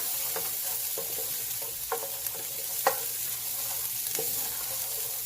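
Onions fry with a steady soft sizzle for Trinidad corn soup, broken by regular knocks and scrapes of a spoon stirring the pot, close by and fairly even.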